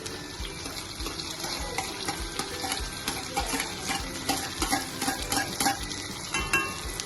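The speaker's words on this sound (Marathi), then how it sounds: "कांदा चांगला लाल झालेला आहे. सो आता आपण त्यात टोमॅटो टाकून घेणार आहोत." Tomatoes tipped into onions already fried red, then stirred, for restaurant-style dal fry: steady close sizzling with repeated scraping stir strokes through the whole stretch, no voices.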